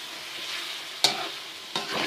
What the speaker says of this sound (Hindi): ये देखें ये प्याज हमने इसमें शामिल की और थोड़ा सा मज़ीद भून लेते हैं